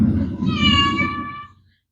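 A cat meows once in a drawn-out, rising-then-falling call lasting over a second, close and fairly loud, with low household rumble beneath it and no talking.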